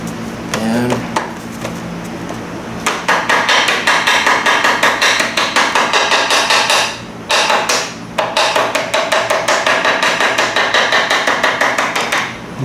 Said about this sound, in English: I have this piece of manila type material and a hammer, ball peen hammer.